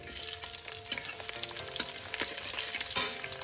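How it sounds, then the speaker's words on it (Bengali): Chopped medium onion frying in a pan with nigella seeds in oil, a steady crackling sizzle with occasional stirring scrapes, close and fairly quiet, no voices. "পেঁয়াজটাকে আমি হালকা করে ভেজে নেব।"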